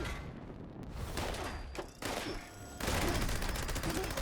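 Gauss minigun fire in Fallout 76, a dense, continuous roar of rapid shots with a brief dip in the middle before it surges louder again, close and filling the whole clip.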